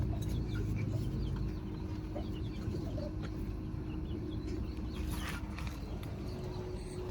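Gray bangkas chickens cluck and call intermittently over a steady low background hum, with scattered bird sounds, no one talking.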